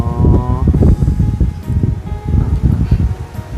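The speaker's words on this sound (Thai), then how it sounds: "มื้อนี้ก็ลมพัดวีๆนะพี่น้อง" Wind gusts buffet the microphone outdoors in a rural village, rumbling and rustling in uneven surges throughout the short stretch.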